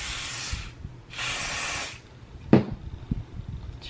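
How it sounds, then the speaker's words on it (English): Olive Oil Fix It Super Hold hair spray hisses from an aerosol can in two close bursts of about a second each, applied to baby hairs on a frontal wig, followed by a few light handling clicks. "now I'm gonna go in with the Olive Oil Fix It Super Hold Spray."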